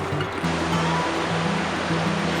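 The Tajo river flows past Toledo with a steady watery rush, loud and continuous, with a low rumble running beneath it.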